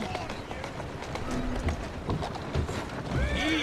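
In the Assassin's Creed Syndicate video game, hooves clip-clop at a running pace and a horse gives a short whinny near the end, heard under a busy game mix with speech on top.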